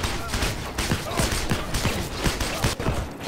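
Gunfire in the video game Heroes & Generals, a rapid volley of sharp shots in a steady rhythm, fairly close and loud under a dense battle-noise bed, with a voice talking over it.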